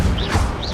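Incendio fire spell cast during combat in Hogwarts Legacy: a short, loud whooshing burst with a bright, shimmering swirl, lasting under a second.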